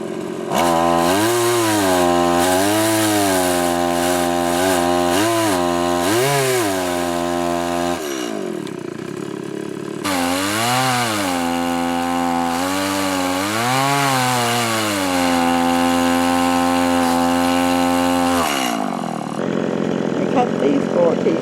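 A chainsaw engine revs up and down loudly while cutting a pecan log, pauses briefly, then roars again in long, wavering bursts before winding down.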